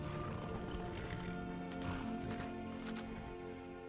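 A horse in Skyrim clops along at a walk after its rider dismounts, with quiet hoof beats set against a steady musical and ambient background, and faint talk in the mix.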